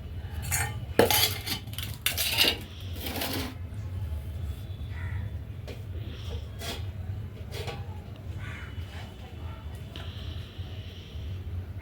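A metal lid clanks and rattles onto a cooking pot of prawn and raw mango curry on a wood-fired stove, with loud clatter early and then quiet simmering background.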